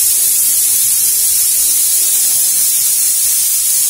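A pressure cooker cooking channa masala lets off its whistle in a loud, continuous hiss of escaping steam that holds steady and close for several seconds, with no talking.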